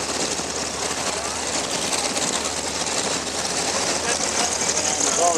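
A vintage warbird in American markings passes with a loud, steady engine drone, a dense roar that holds constant and swells slightly near the end.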